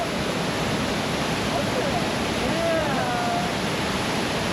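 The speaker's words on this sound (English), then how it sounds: "Maybe you want to go under the waterfall?" Steady, loud roar of rushing water from a waterfall in Ubud, Bali, fills the whole clip, with a few faint higher tones drifting through.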